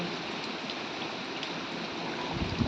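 Heavy rain pours down steadily, a dense, loud, unbroken wash of water that lasts throughout, with no voices.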